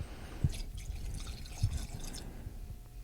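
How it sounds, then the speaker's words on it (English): Drink trickling into a glass in small dribbles, with a couple of heavier glugging splashes, close and fairly quiet over a faint background hiss. "I let it dribble for a little bit and then a big glug and then a few dribbles after"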